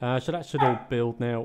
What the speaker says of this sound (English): You might hear the dog barking in the background.